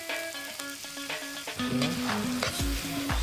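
Onion, garlic, ground pork and flaked tilapia sautéing in a pan, giving a steady close sizzle that gets louder and more crackly partway through, with tonal music running underneath.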